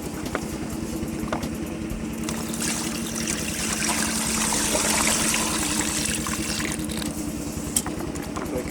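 Dirty water from a 2004 Toyota Highlander's failed A/C compressor system pours and splashes steadily for several seconds, a continuous trickling rush with a low mechanical hum underneath.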